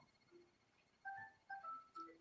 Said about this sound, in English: phone going off